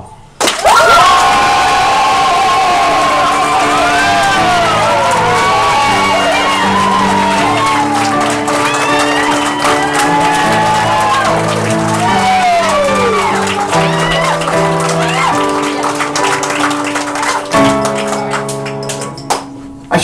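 A game-show studio audience cheers, whoops and shouts loudly and continuously, a dense crowd roar layered over upbeat music for the whole stretch.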